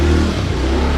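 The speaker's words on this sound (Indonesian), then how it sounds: "Lu kalau bawa motor jangan geber-geber." A flashy motorbike with bright lights revs hard on a street, a loud, close, continuous engine roar with no talking over it.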